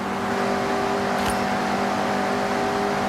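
A Mazda MX-5 in Forza Horizon 6 drones steadily under hard racing load, its engine holding a loud, even note with a brief burst of noise partway through.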